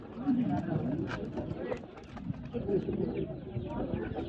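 Pigeons coo softly and repeatedly amid a busy background of chatter and movement at a pigeon market in Kallar Syedan, the low burbling calls rising and falling throughout.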